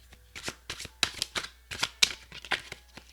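Quick crisp riffling of oracle cards being shuffled close by, in short bursts with brief pauses between them.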